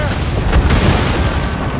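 Ship cannons boom in the naval battle game Assassin's Creed Rogue, a single loud, close blast with a rumbling low tail, heard amid ocean and wind ambience.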